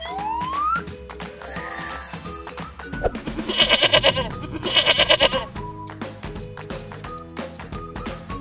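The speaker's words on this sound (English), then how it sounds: "Goat." Goat bleating in a lively farm-animal sequence, with two loud, wavering bleats in the middle over busy background music and other effects.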